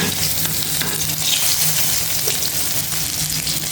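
Steady, dense sizzling of fish and chillies frying in hot oil, loud and close, continuous throughout with no talking.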